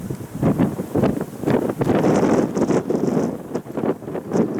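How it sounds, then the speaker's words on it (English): Strong wind buffets a microphone outdoors at a Cleveland plane-spotting site, a loud, continuous roar that rises and falls in gusts, with no voices. "The wind is really picking up over just the last 10 minutes or so."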